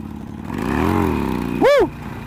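A motorcycle engine rises and falls in pitch as the rider revs it during a wheelie attempt, heard close and loud, with a brief sharp rev spike near the end.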